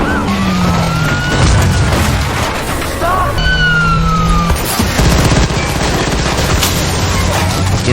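Movie chase with officers firing on a fleeing truck as police sirens wail: dense, loud gunfire bursts and booms over wailing siren tones and engine noise, sustained throughout with a voice briefly underneath.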